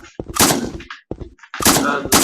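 Shotgun and pistol gunshots in a video game, several loud, sharp close shots fired in quick bursts separated by brief silences.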